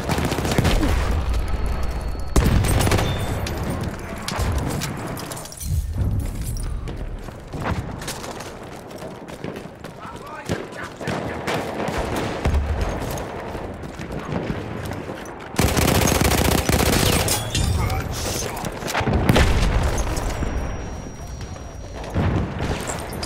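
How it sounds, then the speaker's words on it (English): Dense machine-gun fire and scattered gunshots from the Battlefield 1 video game, during a defensive Amiens Operations battle, roll on loudly and nearly nonstop with sharp, heavy bursts. "There, enemy machine gun."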